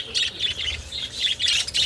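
Parakeets give sharp, repeated squawks and chirps in quick bursts, close and fairly loud.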